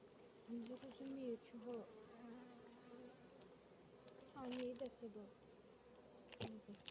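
Honey bees at an apiary hive in early April buzz in faint, wavering swells around the opened hive, with a beekeeper speaking quietly over the hum.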